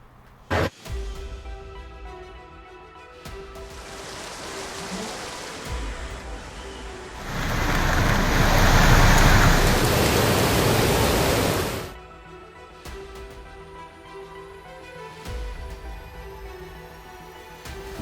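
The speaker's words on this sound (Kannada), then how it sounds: "ಒಂದೇ ಒಂದು ಮಳೆಗೆ ಪ್ರವಾಹವೇ ಸೃಷ್ಟಿಯಾಗಿದೆ" Flood water from heavy rain in Karnataka roars for several seconds, a loud broadband wash swelling in the middle, with quieter gushing and brief knocks before and after.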